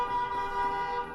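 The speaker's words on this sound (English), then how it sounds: "The fresh air of New York and the honking." Car horns on a New York City street sound as a steady, droning honk heard from indoors through an open window, moderately faint and without talk.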